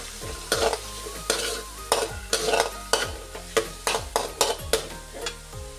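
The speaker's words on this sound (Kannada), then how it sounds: "ಫಸ್ಟು ಹಸಿಮೆಣಸು, ಕ್ಯಾಪ್ಸಿಕಮ್ ಇಷ್ಟು ಸರಿ ಫ್ರೈ ಆಗ" Green chillies and capsicum for gobi manchurian fry in a pan. A spoon scrapes and stirs in about a dozen regular strokes over a steady sizzle, close and alone with no voices.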